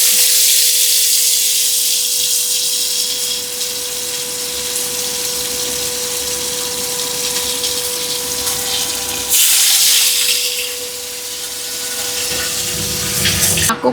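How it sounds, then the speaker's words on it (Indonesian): Tofu fries in hot oil with a steady, dense sizzle throughout, surging louder briefly partway through as more pieces go in, with no talking. "Sekalian aku goreng tahu."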